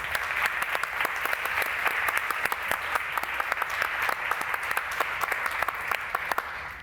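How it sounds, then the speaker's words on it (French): Audience in a hall applauding a guest speaker at a public information-rights event, steady moderate clapping with distinct sharp individual claps standing out, heard from some distance and sustained for several seconds. "On peut l'applaudir."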